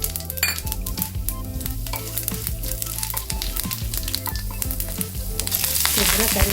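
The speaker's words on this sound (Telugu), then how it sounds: "ఇదండి ఆయిల్ వేడైపోయింది. మనం ఈ పోపు దినుసులన్నీ వేసేసుకుందాము." Whole spices tempering in about two tablespoons of hot oil for a brinjal curd curry, giving a steady close sizzle and crackle alongside faint music, growing louder and hissier near the end.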